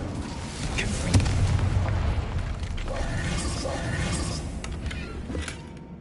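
Fiery spell explosions from the Confringo curse in Hogwarts Legacy, a sustained rumbling blast with a sharp burst near the start, followed by a run of further crackling impacts and booms, loud and close throughout.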